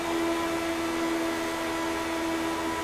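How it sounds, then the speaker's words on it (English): A race car engine at full throttle, recorded onboard during a 2022 Lionheart Retro Series oval race at Michigan, holds a loud, steady, high-pitched drone with a strong humming tone throughout. "You can hear the foot to the floor, the engine crying out."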